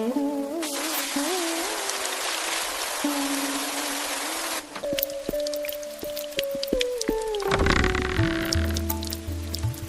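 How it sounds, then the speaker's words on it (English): Hard rain hisses steadily under a soft, tonal melody for roughly the first half, then fades as scattered clicks and taps take over. "Stay warm, okay? It's raining hard."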